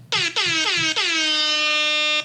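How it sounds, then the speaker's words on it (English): A loud, brassy air horn blasts three short times, then holds one long, blaring tone before cutting off. "It's an air horn. It's supposed to be a little obnoxious."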